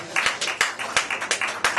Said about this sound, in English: Can we go round the applause for the landlord?